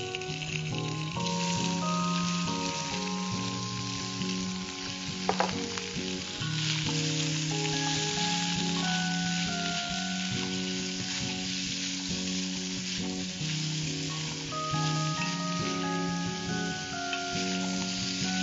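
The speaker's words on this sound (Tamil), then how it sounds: "எல்லா பக்கமும் பிரவுன் ஆற வரைக்கும் பன்னீர் நல்லா ஃப்ரை பண்ணிக்கோங்க." Small cubes of paneer frying in hot oil in a home kitchen, a steady close sizzle and crackle running throughout, with faint stirring clinks and background musical tones layered over it.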